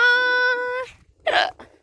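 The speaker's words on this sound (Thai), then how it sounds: "ก็คือสะอึกนะนี่" A person hiccups once, a sharp brief voiced gulp following a sustained tonal sound, then quiet in a close indoor setting.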